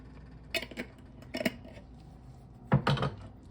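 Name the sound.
mixing spices and keema in a pot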